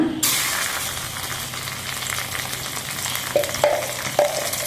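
Steady hiss of ghee sizzling in a hot pan, close and continuous, with a few faint clinks of metal near the end.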